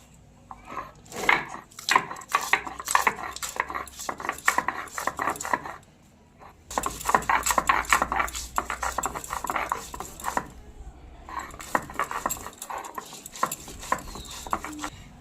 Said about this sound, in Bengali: তা সবার প্রথমে আমি একটু আদা আর 3টে কাঁচা লঙ্কা বেটে নেব।